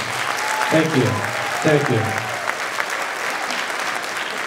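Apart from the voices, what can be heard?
audience applause at a winter band concert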